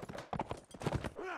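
Horse hooves clip-clopping in a video game, a quick run of hoof beats under a busy mix of other game sounds with a neigh-like tone near the end.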